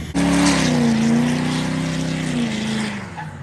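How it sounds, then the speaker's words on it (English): A dually pickup truck doing a burnout, its engine roaring loud and steady at high revs throughout before easing off slightly at the end. "do a burnout"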